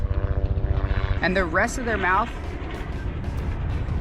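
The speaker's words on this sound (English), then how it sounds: "helicopter intrusion here" A low rhythmic chopping drone of a helicopter passes overhead while a person speaks over it.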